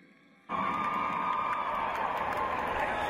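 Concert crowd in a Bucharest mall venue erupting into loud cheering, whoops and applause that start abruptly and hold at full strength.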